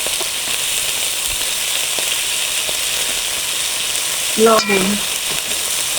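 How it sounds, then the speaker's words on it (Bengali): Spice masala of ginger, cumin, dried chilli powder and turmeric sautéing in a pan for a silver carp curry, a steady close sizzle throughout with a brief louder hiss and bubble near the end as liquid hits the pan; a voice speaks one word. "জল দিয়ে মশলাটা কষি"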